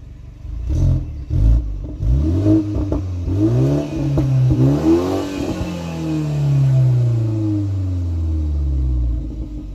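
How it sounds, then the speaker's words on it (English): A 2021 BMW 330i engine revs repeatedly in sport mode, rising and falling in loud, close bursts before settling into a steady, throaty rumble with no talk over it. "Go ahead, Lauren, let's get some rev time."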